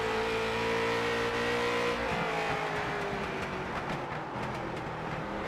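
Engines of Jr. Late Model race cars at Irwindale in a racing video game, a steady droning roar held at high revs, with other cars audible around it.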